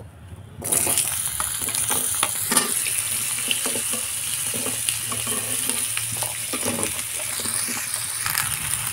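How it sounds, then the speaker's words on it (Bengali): Vegetables stir-fried in hot oil with curry leaves, dried red chilies, five-spice and asafoetida, giving a loud, close, steady sizzle with scraping and stirring knocks throughout and no talking. "আমি আনাজগুলো ভালো করে তেলের মধ্যে কষে নেব"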